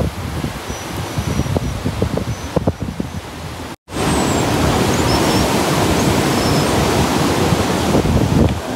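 Floodwater from a river surges during Typhoon Marce in a steady, dense rush, loud and continuous with no talk, broken by a brief dropout partway through before the roar resumes just as strong.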